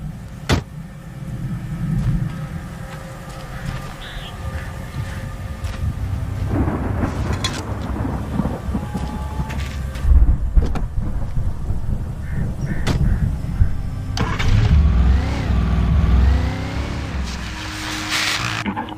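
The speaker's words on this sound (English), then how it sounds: "that storm we all felt coming is finally here." Thunderstorm in the video game Alan Wake: a deep rumble and rolling thunder over steady background noise, with a louder crack partway through and a swelling growl near the end, no speech.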